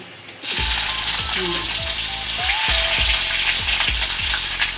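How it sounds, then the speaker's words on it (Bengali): Chopped onion frying in hot oil in a wok, a loud steady sizzle with repeated rhythmic scrapes of a spatula stirring, close up, no speech. "কড়াইতে তেল দিয়ে দিছে তেলটা একটু গরম হইলে আর পেঁয়াজ কুচি এখন দিয়ে দিবে"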